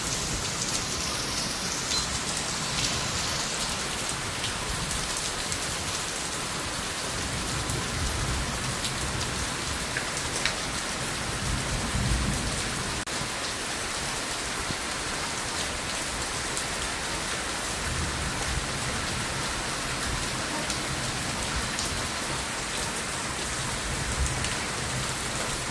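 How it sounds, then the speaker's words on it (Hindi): Heavy rain pours steadily onto surfaces, a dense, constant hiss of drops that stays loud and unbroken throughout with no voices. "बहुत तेज़ बारिश हो रही है।"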